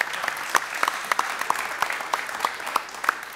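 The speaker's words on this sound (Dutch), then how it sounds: "Applaus voor Thomas." Audience applause at a late-night talk show about small-business cyber security, a small crowd clapping steadily with a few sharper individual claps standing out, no voices over it.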